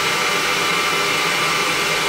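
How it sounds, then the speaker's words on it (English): A hairdryer blows with a loud, steady broadband roar that holds constant, then cuts off abruptly at the end. "let me now switch to the camera's microphone so you can hear how loud the hairdryer actually is."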